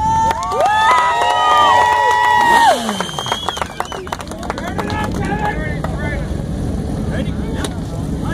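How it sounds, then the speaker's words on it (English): A crowd cheers and applauds at a motorcycle burnout contest, with shrill whistle-like tones sweeping over a loud roar at first, then settling into a steady wash of clapping and shouts under a talking voice. "give him a good round of applause"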